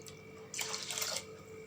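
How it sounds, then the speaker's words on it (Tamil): Water poured into a pot of rice and lentils for bisi bele bath, a short splashing burst in the middle of a quiet kitchen. "அரிசி பருப்பு ரெண்டுமே சேர்த்து நான் ஒன்றரை கப் எடுத்திருந்தனால ஒரு அஞ்சு கப் அளவு தண்ணி சேர்த்துருக்கேன்"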